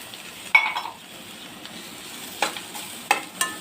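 Eggs stirred into chicken with curry masala in a pan, a faint sizzle under a few sharp scrapes and clinks of a spoon against the metal, spaced irregularly and close by.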